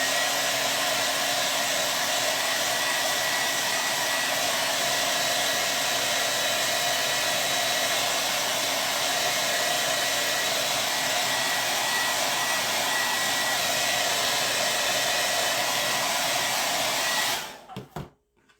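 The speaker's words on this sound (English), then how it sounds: "The blow dryer is going to get loud if you want to turn down your volume" A loud blow dryer drying paint on a wood plank roars steadily for a long stretch, a constant whooshing hum that cuts off abruptly at the end.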